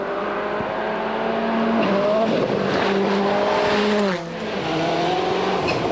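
A Seat Cordoba rally car on a gravel stage at Rally Finland 1999 drives past with a loud, sustained engine note that rises and falls through gear changes, with a brief dip midway before pulling hard again.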